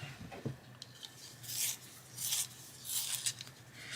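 A platinum colored pencil being sharpened by hand in a close, quiet setting, giving soft scraping rasps in about three bursts of several turns each, with faint rubbing between them.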